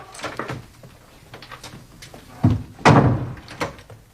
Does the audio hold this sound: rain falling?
no